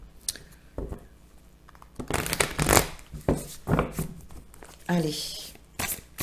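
Tarot or oracle cards shuffled for a reading about whether the vaccine pass will be voted, giving bursts of riffling and rustling close by, alternating with a voice speaking French over and between them.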